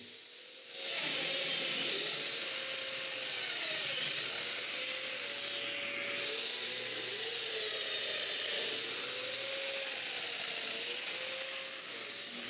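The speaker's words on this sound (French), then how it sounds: "je peux marquer toutes les mortaises de domino et les percer" Domino joiner cutting mortises in wood, a loud steady high-pitched motor whine with a rhythmic rising and falling plunge cycle, repeated several times without pause, close to the tool.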